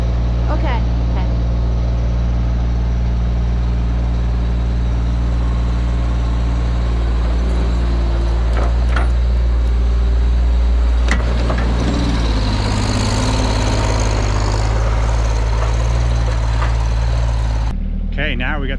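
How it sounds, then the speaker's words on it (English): A skid steer engine runs at a logging site, a loud steady low rumble throughout with a few clanks and a change in pitch near the end, and people speak over it. "now we got the skid steer here"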